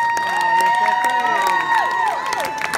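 A concert crowd at Revolution Hall cheers loudly and continuously in a large hall, with whistles and shouts rising through the sustained roar.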